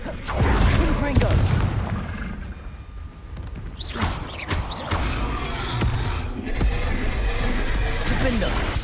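Confringo blasting spells explode repeatedly in Hogwarts Legacy combat, a series of booming blasts and crackling impacts scattered across several seconds, with sharp bursts around the middle and end over a busy layer of game effects.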